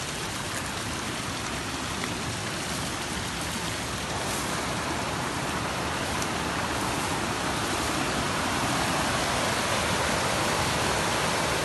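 Water flows steadily and strongly across a rural smallholding near Bonito in Pernambuco, a constant rushing, stream-like wash that fills the whole clip close by, with no voices over it.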